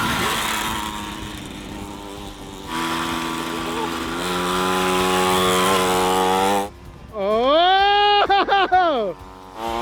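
A small upgraded Temu dirt bike engine revs hard and loud, a buzzing, rising whine with sharp pitch sweeps and blips near the end, while people react excitedly over it.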